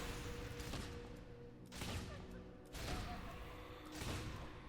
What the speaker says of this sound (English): But there's not many shots in all fairness, like 2 shots.